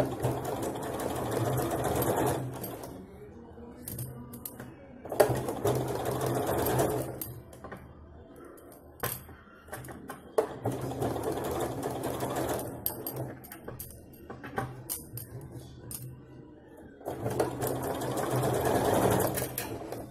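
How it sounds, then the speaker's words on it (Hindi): A sewing machine stitches fabric for a baby chaniya choli, running in several long whirring bursts separated by short pauses, fairly close and steady, with soft handling noises between runs. "फिर पलट के हम लोग एक सिलाई मारेंगे इसके ऊपर तो कपड़ा बैठ जाएगा पूरा"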